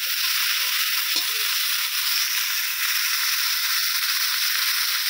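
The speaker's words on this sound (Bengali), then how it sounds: "ফুলকপিটাকেও আমি হালকা ভেজে নেব" Cauliflower florets seasoned with salt fry lightly in a pan, giving a steady, even hiss and sizzle that runs close and continuous throughout, with one faint knock partway through and no talking.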